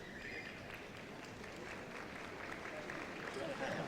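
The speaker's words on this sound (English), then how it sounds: "Big cheer for the Hernwood Gordon setters receiving their award there." Crowd at the Crufts 2013 dog show cheering and applauding Hernwood Gordon setter breeders receiving their award, a steady dense wash of clapping and cheers that swells slightly toward the end.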